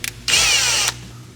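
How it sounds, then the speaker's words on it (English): A power drill boring holes into a Nissan S14 Silvia's car body whines in one loud, close burst lasting about half a second, with quiet before and after. "we're gonna drill some holes and put some bolts in through there"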